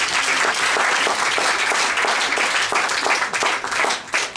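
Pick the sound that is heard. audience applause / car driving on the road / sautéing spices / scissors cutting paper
audience applause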